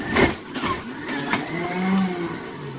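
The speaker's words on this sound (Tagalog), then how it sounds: "I have to balance when I'm doing the blender" A blender whirs through celery, lemon and ginger for a ginger shot, a fluctuating motor whine with a few clunks and a pitch that shifts as the load changes, close and moderately loud.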